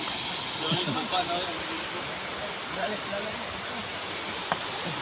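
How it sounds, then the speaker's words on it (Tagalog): Constant broadband hiss of rain falling by a river, with a few faint voices murmuring underneath and a brief tap near the end. "Ulan na naman"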